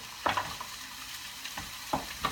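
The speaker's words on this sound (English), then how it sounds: "Hash browns are cooking." Fresh, not frozen hash browns fry in a pan with a constant soft sizzle, broken by several scraping stirs of a spatula, close and moderately quiet.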